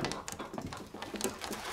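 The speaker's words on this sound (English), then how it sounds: "You can even hear Bruno's claws tapping on the wood." A dog's claws tap and patter quickly on a wooden floor in an animated scene, a faint, busy clicking over soft room noise, with no voices.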